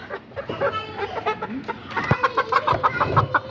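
Several chickens cluck and murmur close by, a busy, continuous patter of short calls with rustling and handling noises mixed in.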